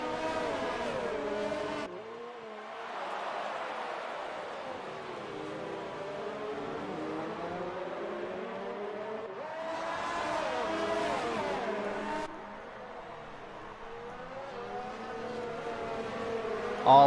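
F1 race cars in a racing game whine steadily through the S-bends, engines rising and falling in pitch as they pass close, loud and continuous without talk.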